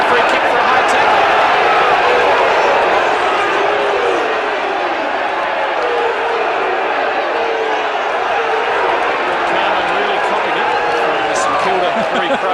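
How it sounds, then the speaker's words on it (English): A St Kilda home crowd at a 1980 Australian football match against Essendon roars in a broad, sustained wash of cheering, with a commentator talking over the top. "St Kilda crowd."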